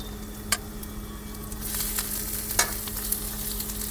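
Chicken fries with browned onions in a large kadai, a soft steady sizzle punctuated by a few sharp clacks of a spoon against the pan, fairly quiet and close.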